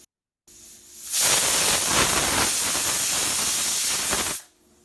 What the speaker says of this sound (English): the pressure cooker.